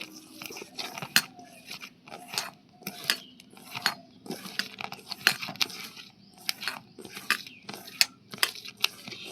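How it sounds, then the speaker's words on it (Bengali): Gram flour batter with spices and a pinch of asafoetida is mixed in a bowl for jhuri bhaja, giving irregular close clicks and scraping knocks of a utensil against the bowl in uneven bursts. "বেসনের সাথে সব উপকরণগুলো আমি ভালো করে মিশিয়ে নিচ্ছি"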